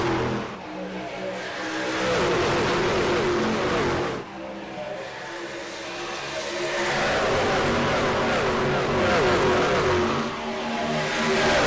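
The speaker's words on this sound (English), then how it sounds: "The sounds of the Concerns of Police Survivors Truck Series live here on the NASCAR 360 Racing Network." NASCAR C.O.P.S. Truck Series race trucks roaring around Charlotte Motor Speedway, loud sustained engine drone swelling and fading as packs pass, with a brief dip before the roar builds again.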